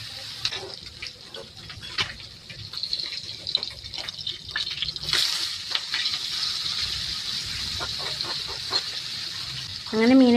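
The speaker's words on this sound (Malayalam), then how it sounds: "അതിൻ്റെ കൂടെ തന്നെ ഞാൻ വിചാരിച്ച് മീനും കൂടെ അങ്ങ് വറുത്തെടുക്കാമെന്ന്" Fish frying in oil in a pan for a Kerala fish curry, a continuous close sizzle with scattered pops and utensil knocks, some watery splashing sounds mixed in, and a brief louder burst at the very end.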